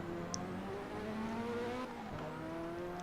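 Race car engine in the Assetto Corsa driving game, a thin whining drone that climbs through repeated upshifts with brief drops between gears, faint and steady with no talking.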